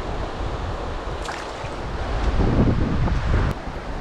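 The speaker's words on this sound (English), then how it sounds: "Wind is not great for Euro nymphing." Gusty wind buffets the microphone beside a river, a steady rushing roar that swells midway, with water murmuring underneath.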